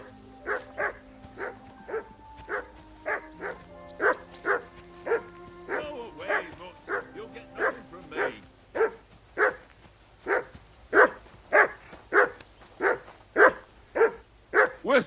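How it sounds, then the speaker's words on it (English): A dog barks steadily and repeatedly, about twice a second, loud and close, over a soft musical backdrop. "That barking was a pain in the ass."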